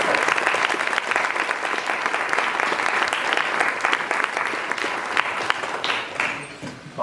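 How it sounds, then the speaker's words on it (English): A crowd applauds steadily for several seconds, dense clapping that stays strong before thinning slightly near the end. "how about a quick round of applause for Cat Friendly doing that?"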